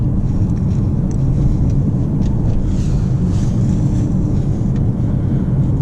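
A 2017 BMW 335d with a 3-litre diesel engine accelerates, giving a loud, steady low-pitched drone and road rumble from inside the cabin, with wind noise and a few light clicks and no speech.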